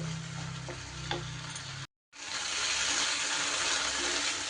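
Spices for a katla fish curry sauté in a pan with a continuous soft sizzle, a few clicks of stirring, a short silent gap, then the sizzling resumes steadily.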